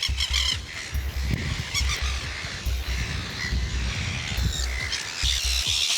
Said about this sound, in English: Oh my God, look at these birds.